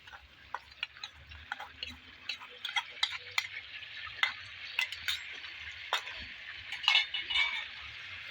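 Chicken charsi karahi, Peshawari dhaba style, is stirred in a pan with a series of sharp metal scrapes and clinks over a soft background sizzle, close and regular, without talk.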